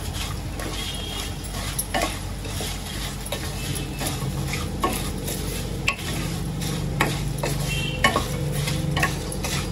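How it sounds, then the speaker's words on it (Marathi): Spices and salt being stirred together in a bowl or pan for murmura bhel, a continuous close scraping and mixing with faint clinks of utensils against metal, no speech. "आता या सर्वांना मी एकत्र करून घेते मसाल्यांना."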